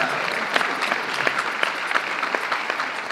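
Steady applause from a crowd at a convention closing ceremony, many hands clapping continuously at moderate loudness, with a few sharper claps standing out.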